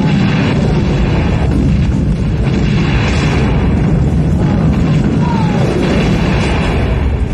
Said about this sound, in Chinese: 伴随着一声巨大的爆炸声